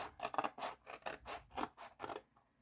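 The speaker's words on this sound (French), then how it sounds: "Vous pourriez prendre votre planche de découpe ou tout simplement y aller avec les ciseaux" Scissors snip steadily through paper while a small chocolate box is cut out, about seven crisp, rhythmic cuts at close range with no voices.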